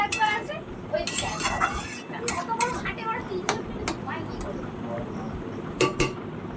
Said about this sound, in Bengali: এটাকে আমি ভালো করে এখন নাড়াচাড়া দিয়ে নেব।